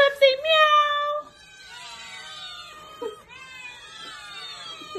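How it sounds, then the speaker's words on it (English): A pet cat meows loudly up close, a long drawn-out cry followed by softer, wavering meows and a whiny caterwaul, heard alone without talk. "Can all the kitties in the club say meow?"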